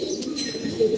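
Racing pigeons coo softly at close range, a low continuous burbling murmur with a slightly louder swell near the end, no voices.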